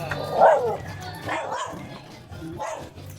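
A dog barks three times at a moderate distance, spaced about a second apart, over a low steady hum.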